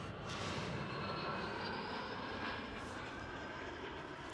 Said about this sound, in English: Right here we do have KLM City Hopper E175.